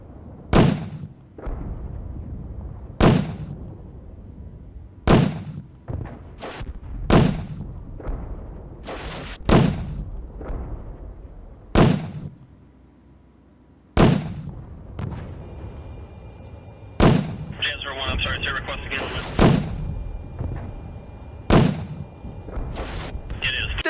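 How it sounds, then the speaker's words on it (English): A cannon in the video game AirStrike Command lobs explosives, about a dozen loud, sharp booming blasts at irregular intervals, each with a short rumbling decay, later joined by a faint buzzing tone. "the cannon. You can use it to lob explosives at the enemy"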